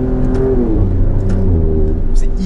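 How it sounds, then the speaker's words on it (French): Alfa Romeo Stelvio Quadrifoglio SUV accelerating hard through its 8-speed automatic gearbox, a loud continuous engine drone with rising and falling harmonics as quick gear changes follow each other, with faint voice sounds over it. "Ça décolle et la boîte, qui n'est pas une boîte à double embrayage, mais une boîte automatique à 8 rapports."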